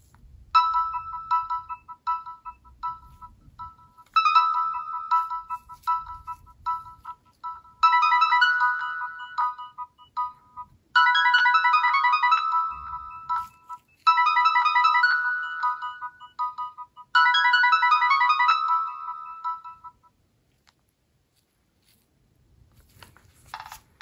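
A Nokia phone plays its ringtone, a bright synthetic melody in repeating phrases that grow fuller with each cycle, clear and close, then stops near the end.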